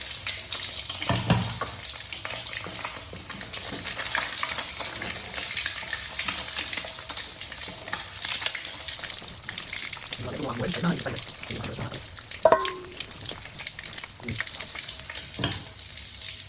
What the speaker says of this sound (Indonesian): Sudah tuh aku mau langsung goreng nasinya guys.